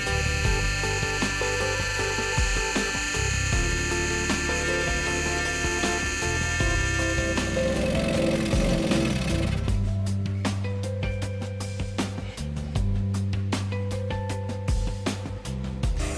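Scroll saw cutting a diamond-shaped inside cut while making a watch, a steady close buzzing reciprocation with tonal whine that shifts pitch midway and becomes a rapid chattering rasp in the later part.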